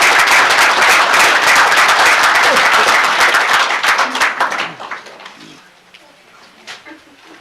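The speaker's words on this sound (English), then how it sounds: "Let's give one more round of applause for Mr." Applause at a city commission meeting, many people clapping loudly and steadily before it tapers off, leaving a few scattered claps and quiet room sounds.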